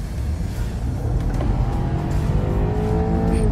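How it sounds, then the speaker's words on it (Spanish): A BMW 530i sedan accelerating at full throttle from 55 km/h, its engine building into a rising, strained roar over heavy road and tire noise, captured from inside the cabin with no talking. "Vamos a 55 km por hora y voy a acelerar a fondo para que vean en qué momento responde el motor"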